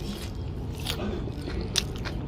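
Someone eats Chinese food, crunchy sweet-and-sour pork sprinkled with almonds, close to the mic, with repeated crisp bites and chewing crunches and no talking.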